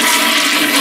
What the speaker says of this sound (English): The toilet is a Glacier Bay, and for all toilet fans, here you go.